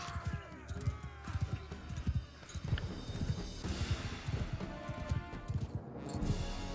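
Horses gallop amid a battle in Mount and Blade 2 Bannerlord, quick irregular hoof thuds and clattering impacts overlapping close by, with clashing noise of combat and a voice speaking faintly over it.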